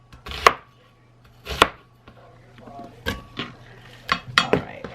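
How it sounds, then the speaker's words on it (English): Several sharp knife chops through an onion on a cutting board, uneven in rhythm, close and crisp, with small clinks between the cuts. "a piece of onion, just cutting the end off of that."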